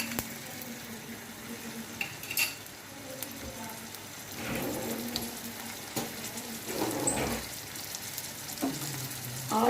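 Chopped garlic and ginger frying in a pan for Patiala chicken, a soft sizzle with scattered stirring clatters and brief louder bursts, near and moderate.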